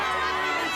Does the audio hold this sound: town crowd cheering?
yes